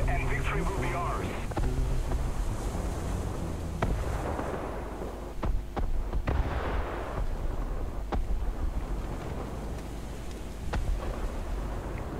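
Naval guns fire during a War Thunder battleship match, heavy booms going off at irregular intervals over steady rumbling noise while people talk throughout.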